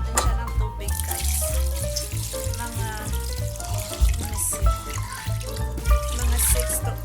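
Tap water runs steadily into a pot for beef kare-kare with beef tripe, a continuous near splashing stream over a low background hum, with no talk.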